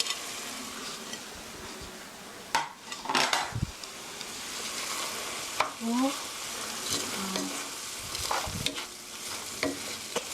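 Pork with onion and garlic stir-fries in soy sauce, a continuous close sizzle broken by sharp clanks and scrapes of a utensil against the pan at irregular intervals, with no voices.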